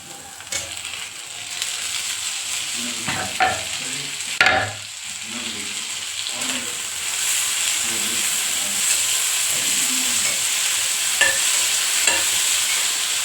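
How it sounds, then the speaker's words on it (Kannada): Tomatoes frying in a pan for a Karnataka avarekayi palya, a steady sizzle and hiss with occasional stirring scrapes and clinks, close and moderately loud, no voices. "ಟೊಮೊಟೊ ಕೂಡ ಸ್ಕಿನ್ನೆಲ್ಲ ಬರೋ ತನಕ ಹುರ್ಕೊಳ್ಳಿ."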